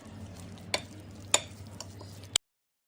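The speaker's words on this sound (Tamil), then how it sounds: "கொஞ்சம் கருவேப்பிலை, தேங்காய் எண்ணெய், தேங்காய் பச்சை மிளகாய் போட்டு நல்லா மிக்ஸ் பண்ணிங்கோ" Raw banana puzhukku with coconut oil, green chili, curry leaves and coconut is stirred in a pan, making a soft continuous scraping hiss. Three sharp clacks of the spoon against the pan stand out before the sound cuts off abruptly.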